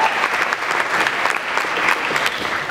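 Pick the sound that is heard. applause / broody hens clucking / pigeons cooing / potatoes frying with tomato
applause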